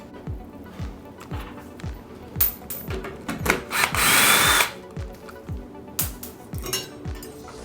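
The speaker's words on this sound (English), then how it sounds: "Now, I can use a hex tool to remove those bolts." A hex tool removing bolts during ceiling work in a studio, a series of short ratcheting and whirring bursts repeated rhythmically, close and moderately loud, with tool clatter between turns and no talking.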